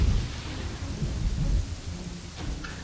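Stormy weather in the Kingdoms and Castles video game: a steady wash of rain with low rumbling thunder rolling throughout, fairly close and continuous, with a brief sharper crackle near the end.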